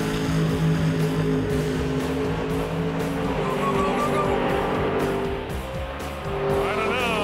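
A Camaro making a super gas drag racing pass, its engine roaring loud and steady as it accelerates down the strip, with crowd and ambient noise mixed in and a brief dip near the end.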